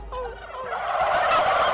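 Farm turkeys gobble in a loud, dense flock chorus, overlapping rapid warbling calls building steadily throughout with no voices.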